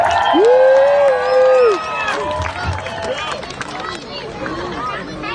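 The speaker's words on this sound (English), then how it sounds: "Let's give our coaching staff a big round of applause." A crowd cheers for the coaching staff at a 2018 Arkansas 4A state high school football championship, with loud shouts and whoops up close over a background of babble and scattered clapping.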